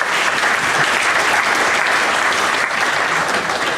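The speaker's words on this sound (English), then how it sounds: "please, a round of applause for yourselves for getting here tonight" A crowd claps loudly and continuously, a dense even wash of applause filling the space from start to finish.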